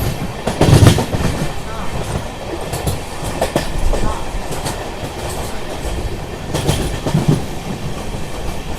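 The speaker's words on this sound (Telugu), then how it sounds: "ఇప్పుడే మనల్ని వచ్చేసి కేరళ ఎక్స్ప్రెస్ అయితే ఓవర్టేక్ అయితే చేసింది" The Kerala Express, running seven hours late, overtakes a moving train, its wheels rolling in a close, continuous clickety-clack with rumbling bursts as coaches pass; a faint voice is briefly heard.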